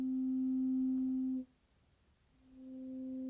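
Steady sine-like tone from a Korg Volca Modular synthesizer with a slow envelope, cutting off abruptly, then swelling slowly back in after a quiet gap, faint and alone.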